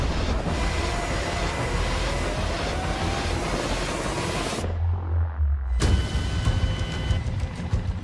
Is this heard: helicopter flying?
yes